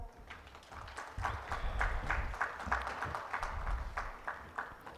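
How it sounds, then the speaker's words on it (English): A conference audience at a legal event gives a panelist a round of applause, heard as moderate, uneven clapping with a distinct patter that swells after the first second and continues to the end. "Let's have a huge round of applause,"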